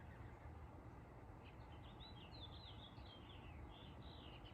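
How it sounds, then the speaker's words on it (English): Faint, high bird chirps twittering in quick runs over a steady outdoor wind-like hiss. "Hearing those birds."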